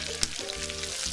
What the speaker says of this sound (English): now we're going to add the onions. Yeah, everything's going to cook with the bacon fat